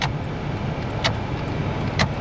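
Clicks from the manual windows and side mirrors of an old car with 66,402 miles, a few sharp, isolated clicks spaced about a second apart over a steady low interior hum.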